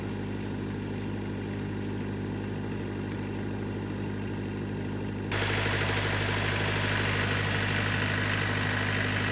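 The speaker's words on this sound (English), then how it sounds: "it looks like Fraser's had to go and get his tractor" A tractor engine runs steadily in heavy rain, a constant low rumble blended with dense rain hiss that grows louder partway through, with no voices.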